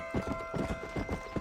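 Horse hooves clip-clopping in Red Dead Redemption, a quick steady rhythm of about a dozen hoof strikes, with faint talk underneath.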